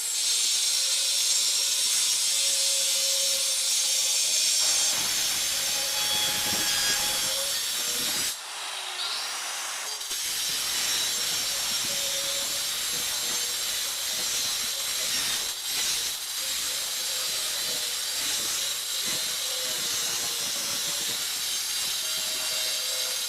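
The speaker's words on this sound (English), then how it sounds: "I've got the cutting guard mounted along with a cut-off wheel for metal." A Makita 9557PB 4-1/2 inch angle grinder fitted with a metal cut-off wheel cuts through metal, giving a steady, loud, high-pitched grinding whine that holds for most of the stretch with a brief dip midway.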